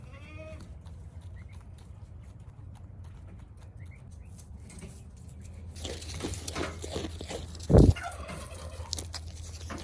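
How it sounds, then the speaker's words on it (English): Turkeys gobble repeatedly while being given kelp and other treats at morning feeding, the calls growing louder and busier in the second half, with one sharp loud knock or bang near the end. "So I'm giving that to the turkeys right now."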